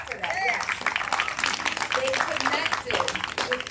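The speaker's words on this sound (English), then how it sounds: "That we can clap for that," Audience applause at an overdose awareness candlelight vigil, a scattered round of clapping running under a voice that keeps talking throughout.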